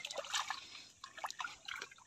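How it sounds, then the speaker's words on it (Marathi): Faint trickles and gentle sloshing sound as a crab-trap container is lowered into shallow water, with a few soft splashy drips in short clusters and no talk. "पहिला डबा आपण टाकलाय पाण्यामध्ये."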